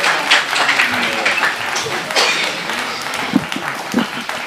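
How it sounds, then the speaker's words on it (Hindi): Listeners at a poetry recital (shayari event) clap, fairly loud uneven applause with a few heavier claps and murmuring voices underneath. "एक बार फिर जोरदार तालियां डॉक्टर फुरकान सरदनवी साहब के लिए।"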